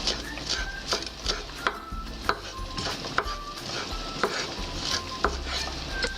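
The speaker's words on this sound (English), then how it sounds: "just give it a quick stir" A spoon stirs chopped herbs through tomatoes in a pan, giving regular soft scraping strokes roughly once a second over a low steady sizzle, close and clear with no talking.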